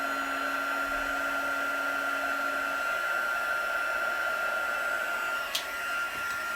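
A heat embossing tool blows steadily on embossing powder over paper, a constant close airflow roar like a hair dryer with a faint tone, briefly shifting near the end.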